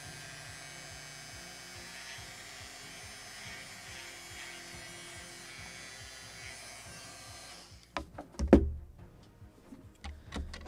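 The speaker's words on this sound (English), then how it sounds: "drill it a little" A small drill boring a hole in a wooden model of the 1776 gunboat Philadelphia to fit a brass spike: a thin steady motor whine for about eight seconds, then it cuts off, followed by a few close handling knocks and taps.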